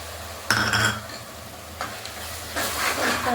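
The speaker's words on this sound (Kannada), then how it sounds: "ಇದು ಸ್ಮೆಲ್, ಹಸಿ ವಾಸನೆ ಎಲ್ಲ ಹೋಗೋ ತನಕ ಫ್ರೈ ಮಾಡ್ಕೋಬೇಕು" A paste of green chilli, coriander, mint and ginger-garlic frying in a pan for menthya bath: a soft, continuous sizzle with brief louder bursts of stirring.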